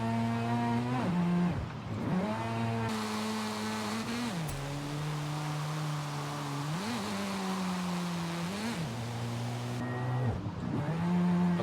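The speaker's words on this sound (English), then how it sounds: "That wankle engine, oh my gosh. The sound of that rotary redlining," A Wankel rotary engine in a JDM car revs hard toward redline, with a buzzy harmonic engine note climbing and dropping through repeated gear changes, loud and close and with no voices.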